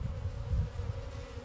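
A steady, dense hum of honey bees swarming around an open beehive during an inspection, close and continuous, with no voices.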